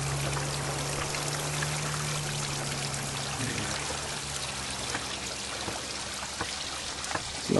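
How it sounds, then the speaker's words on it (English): Running water flows steadily down a creek at a fossil-hunting site in eastern Kentucky, a continuous close pouring and trickling rush that fills the whole stretch with no talk. "And lots of running water."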